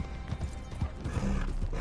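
A horse in the Western video game Red Dead Online clip-clops along at a steady walking rhythm, hooves thudding close and clear throughout with a brief snort mixed in.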